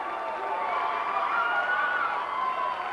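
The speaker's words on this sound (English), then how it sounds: "And a crowd of joyous noise from the stands." Crowd noise from the stands at a boys' city conference swim meet finals, a steady wash of cheering and shouting that holds for the whole few seconds without clear breaks.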